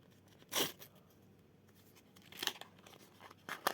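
A packet is torn open in three short, crisp ripping bursts separated by quiet pauses, close up.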